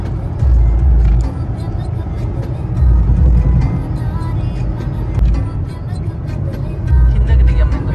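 A car drives along a national highway between Hyderabad and Indore, its engine and road noise a loud, steady rumble that swells periodically and is heavy enough to be mistaken for a lorry.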